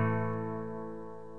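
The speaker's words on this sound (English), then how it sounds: "To play this chord, we're going to strum the 3rd, 4th and 5th strings, leaving out the other strings," One guitar chord strummed on the 3rd, 4th and 5th strings, a single soft strum that rings out and slowly fades, with no talking.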